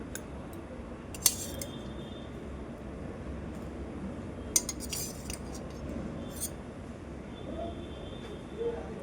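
A serving spoon clinks a few times against a dish while small prawn curry is ladled out, quiet, sparse metallic chinks over a soft room background.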